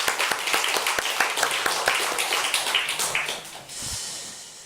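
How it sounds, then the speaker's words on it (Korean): A church congregation at a Sunday afternoon service bursts into dense, lively applause that carries for about three and a half seconds before fading into room murmur. "우리 수고하셨다고 박수 한번 합시다."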